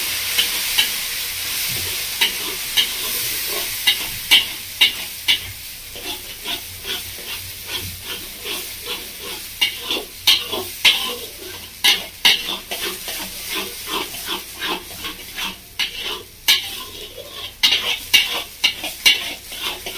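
Ground shrimp paste is stir-fried into a spiced masala in a pan, a continuous soft sizzle broken by repeated scraping strokes of a spatula in an irregular rhythm, close and alone.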